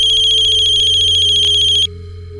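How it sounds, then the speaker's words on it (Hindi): A mobile phone ringtone plays loud and close, a steady high repeating electronic tone that cuts off abruptly near the end, leaving only quiet room hum. "फोन आ रहा है उसी को।"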